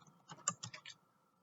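Brief burst of keystrokes on a computer keyboard while working in MS PowerPoint, about six quick clicks in under a second before falling quiet, close and fairly soft.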